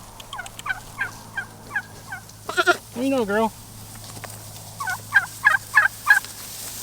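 Turkeys gobble in several short, bubbling bursts on a farm where they graze alongside goats, with goat bleats mixed in and a person speaking briefly nearby.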